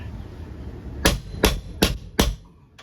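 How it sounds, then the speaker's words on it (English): A hammer drives ridged screws in with four sharp, evenly spaced blows ringing out clearly over a low background rumble. "One is hammering it in like I'm doing right now"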